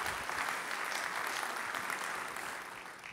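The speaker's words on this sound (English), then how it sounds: "I want to give them a round of applause for the amazing work they do for Long Beach Airport and our city" An audience at a Long Beach civic event applauds the airport team, dense even clapping that sounds somewhat distant and blended, holding steady before fading slightly at the end.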